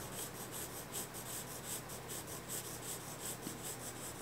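A graphite pencil draws repeated directional practice lines on paper in a basic sketching exercise, giving a steady, rhythmic scratchy rasp of close strokes about two or three per second, soft and continuous with no talk.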